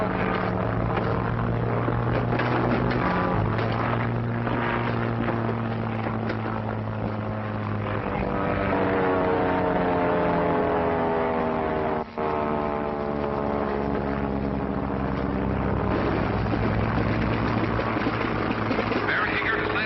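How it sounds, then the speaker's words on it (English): A propeller airplane in a 1937 setting comes down to land in a field, its engine and propeller droning steadily and loudly, with the pitch shifting slightly through the approach. "Barry Hayygard is landing in the field."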